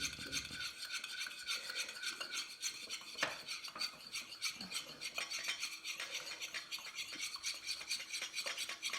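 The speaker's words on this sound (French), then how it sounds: "Il m'a fallu remuer quand même un bon petit moment parce que je ne suis pas du tout habituée à cet émulsifiant." Homemade face cream emulsion being stirred by hand in a bowl, a steady soft scraping and rubbing of utensil against container, close and continuous with occasional clinks.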